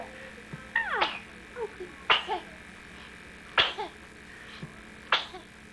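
Four short, sharp sneezes or coughs burst out at a steady spacing, close and fairly loud over a quiet room, with a soft sound in between.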